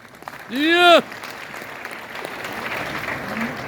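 Audience applause at a grand celebration event, a diffuse patter of clapping that carries on steadily after a brief vocal exclamation near the start.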